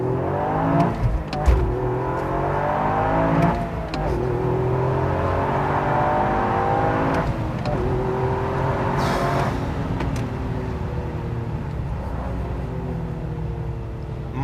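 A Toyota GR Yaris pulls away and accelerates hard, its engine note rising in repeated sweeping climbs through the gears, loud and close throughout, with no talking.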